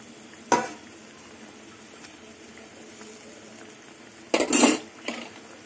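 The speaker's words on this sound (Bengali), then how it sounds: "এবার ভাজা পটলগুলো দিয়ে দেবো।" Fried pointed gourd pieces drop into a pan of curry with fish, giving a clatter of a metal spoon against the pan, a quiet simmering sizzle between, then a longer burst of scraping and stirring near the end.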